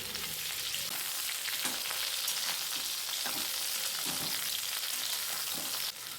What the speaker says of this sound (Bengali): তেল গরম হয়ে গেলে কেটে রাখা ভেন্ডিগুলো দিয়ে দিলাম